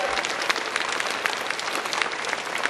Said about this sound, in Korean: 우리 환영의 박수, 함성의 박수 한번 드립시다